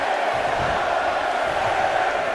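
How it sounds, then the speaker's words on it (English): A wrestling arena crowd roars steadily, a dense sustained wall of cheering and shouting at full volume with no pauses. "Listen to this crowd."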